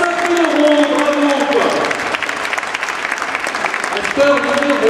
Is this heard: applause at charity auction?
yes